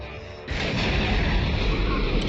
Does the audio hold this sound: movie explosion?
yes